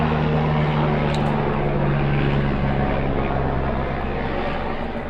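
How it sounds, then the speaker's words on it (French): An aircraft engine drones steadily overhead, a loud continuous rotor-like rumble that holds through the whole stretch with no talk, fading slightly at the end. "Hélicoptère."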